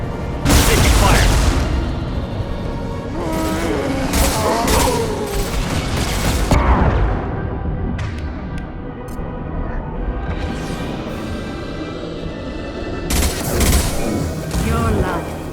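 Combat in Mass Effect 2: loud bursts of weapon fire and heavy booming explosions, dense at the start, easing into a quieter stretch, then flaring up again near the end, with voices mixed in.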